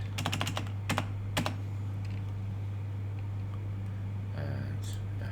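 Quick bursts of computer keyboard typing while code is written for a game sprite, a few clustered clicks early on and a brief burst near the end, over a steady low electrical hum.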